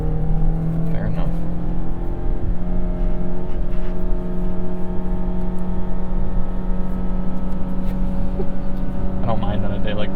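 Engine of a 2022 Mazda CX-9 held at high RPM while driving, a steady loud droning hum heard from inside the cabin, with a faint voice underneath.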